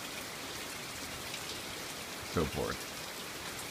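Rain falls steadily in a soft, even hiss at low volume, with a brief spoken voice breaking in for a moment near the end.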